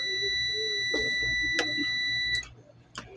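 A steady high electronic buzz-tone from a 2hp Koppel air conditioner showing an E1 error, caused by a shorted diode, drones continuously, then cuts off abruptly, with faint clicks and handling noises around it up close.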